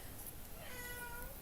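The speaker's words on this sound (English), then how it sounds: "And that's a cat." A male cat gives a single drawn-out meow, faint and somewhat distant in a bedroom, rising and then falling over about a second.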